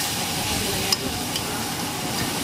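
Pad thai noodles stir-frying with sauce and vegetables in a pan that is not non-stick, a continuous close hiss and sizzle with soft stirring scrapes and one brief metallic clink.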